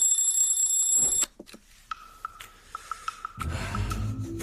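A morning alarm clock rings loudly with a bright, sustained electronic tone, then cuts off, followed by a few soft beeps and rustling movement.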